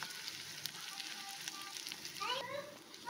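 Garlic added to onions frying in a pan for homemade noodles, giving a soft, steady sizzle with faint stirring scrapes and a brief clatter near the end.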